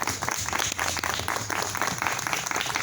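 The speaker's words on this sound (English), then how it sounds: "Ladies and gentlemen, a round of applause" An audience at a District 84 Assembly candidates forum applauds for candidate Alberto Torres, a dense, steady round of clapping that fills the whole short stretch at moderate loudness.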